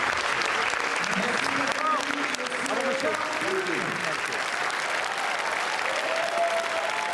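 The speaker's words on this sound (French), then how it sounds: "Tous les applaudissements du public." A large crowd on the Cannes Festival red carpet applauds continuously, a dense wash of clapping and cheering with voices talking over it throughout.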